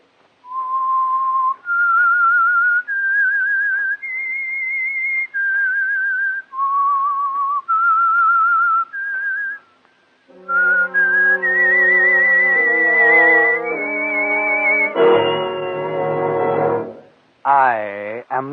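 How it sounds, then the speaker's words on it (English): A whistled theme melody opens a radio mystery program, a lone clear tune of sustained notes stepping up and down, then joined by a swelling orchestral passage with sliding strings near the end. "That whistle is your signal for the Signal Oil program"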